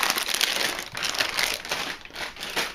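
Plastic candy melt bags crinkling and crumpling up close, a continuous dense rustle with uneven surges over a few seconds, no talking.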